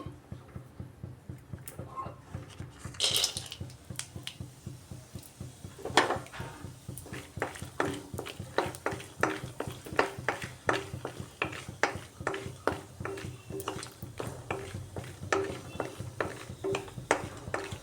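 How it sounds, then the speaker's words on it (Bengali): Peanuts frying in a little refined oil in a wok give off rapid, irregular crackles and pops, a dense rhythmic sizzle at moderate level running steadily throughout. "এই সামান্য রিফাইন্ড অয়েলের মধ্যে এখন আমি বাদামগুলোকে ভেজে নিচ্ছি"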